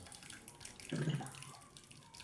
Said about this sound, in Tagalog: lagyan nyo lang siya ng mainit na tubig